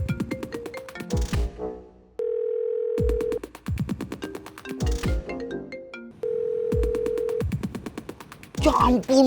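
A phone call rings out in repeated long electronic ringback tones, each steady beep separated by pauses, interspersed with short musical stings, loud and close.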